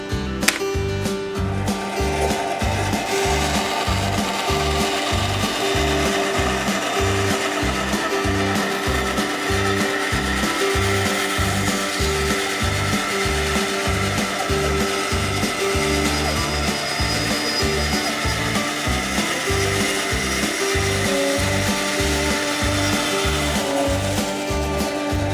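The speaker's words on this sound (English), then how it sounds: "We can actually do it here on the bandsaw" A bandsaw cuts through cedar wood in a workshop with a continuous, loud, steady buzzing drone and a rhythmic low pulsing throughout, with no voices.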